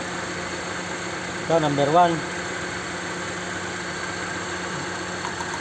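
A car engine with a prior misfire now idles smoothly again, a steady even hum running throughout while someone talks briefly over it.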